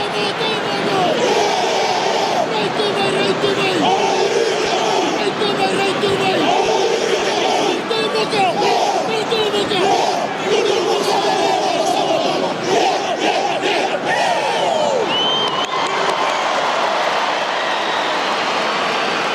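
The Fiji rugby team performs the Cibi war challenge, led by the captain, at an England versus Fiji autumn international on a Saturday evening. Rhythmic chanting rises from a noisy stadium crowd beneath a commentator's continuous talk.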